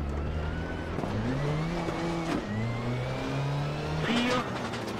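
A rally car engine revs hard and shifts through gears on a Hungary Rally stage in Richard Burns Rally, a loud, steady climbing drone with pitch steps, alone without speech.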